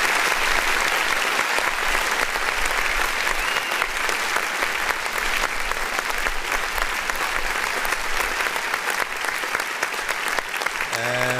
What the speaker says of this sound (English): Well, no, keep clapping.